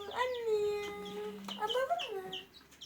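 High, thin chirping calls of two baby chicks rise and fall in a few drawn-out cheeps, close by, with brief soft sounds between them.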